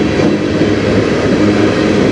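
A long freight train of hoppers, tank cars and auto racks rolls past, with a loud, steady rumbling roar and wheel noise filling the whole stretch.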